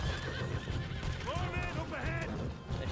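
Horses in Red Dead Redemption 2 neigh in two loud, wavering whinnies with clip-clopping hooves underneath, while someone talks over the game sounds.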